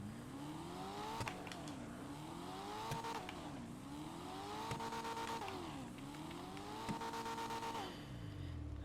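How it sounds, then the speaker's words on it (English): An old classic car's engine revs up and settles back in repeated cycles, roughly four rising and falling swells with a steady rumble underneath, heard close and loud, with no one speaking. "Even the sound of the car. Just listen to this."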